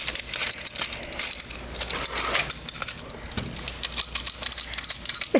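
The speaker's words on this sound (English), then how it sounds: "Jump around and ring his bell." A wind-up teddy bear toy jumps about and rings its small bell, giving bright, rapid metallic jingles and rattling clatter that come in bursts, fairly close with a faint room background.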